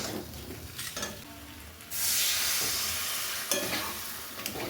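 Potatoes being sautéed in spice masala in a pan for a lentil-dumpling and egg curry: scattered spatula scrapes over a low sizzle, then a louder, steady hiss of frying swells halfway through and holds, close and unaccompanied by voices.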